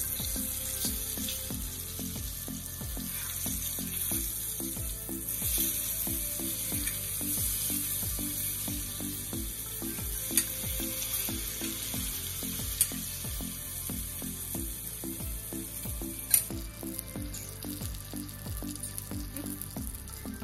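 Spiced fish pieces fry crisp in a pan, giving a continuous bright sizzle for twenty seconds with a few sharper pops, heard alongside steady background music.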